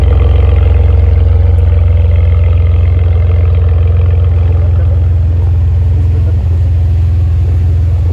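Front-mounted V12 of a Ferrari 599 idling loud and close, a deep steady rumble with a slight dip and rise partway through, no voices over it.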